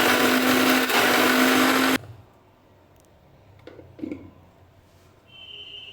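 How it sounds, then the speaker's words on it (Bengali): A blender grinding shrimp into paste whirs loudly and steadily for about two seconds and then stops, followed by faint handling knocks and quiet room noise. "চিংড়ি মাছগুলো বাটা হয়ে গেছে"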